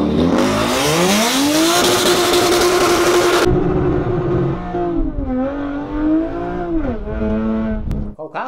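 A 2007 Toyota Camry 3.5 V6 engine revs loudly up and down several times, pitch rising and falling in repeated surges, close by.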